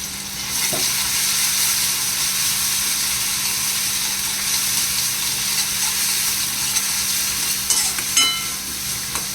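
Curry leaves hiss and sizzle steadily in hot oil, a loud, continuous frying sound that fills the whole stretch with a few small crackles and pops near the end.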